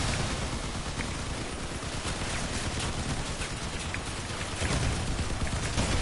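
Dense, continuous bursts of heavy gunfire and tank cannon blasts fill the scene, loud and relentless with no pauses, like a chaotic battle, in the video game Crossout.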